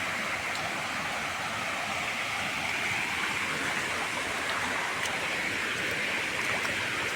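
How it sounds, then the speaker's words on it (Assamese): Steady broadband rush of a monsoon-swollen waterfall in the hills near Bongaigaon, a constant full roar of falling water with no break or voices. "বাৰিষা কালৰ কাৰণে ৱাটাৰফলটো বেছিকৈ বাঢ়িছে চাওক কি ধুনীয়া শব্দ"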